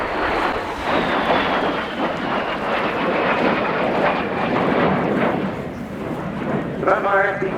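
A de Havilland Vampire FB.6 and T.55 in a flying display at the RIAT 2018 air show: a loud, sustained jet roar with a slowly falling whine as the aircraft passes, with wind buffeting on the microphone.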